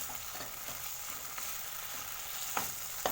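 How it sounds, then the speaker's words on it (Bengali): Spices sizzle softly in a pan as a curry base for hilsa fish head with taro greens, under a steady light frying hiss. A few sharp scrapes of stirring come near the end. "ভেজে নিচ্ছি দেখো মশলা কষানো একদম অল্প সময় ধরে কষাবো"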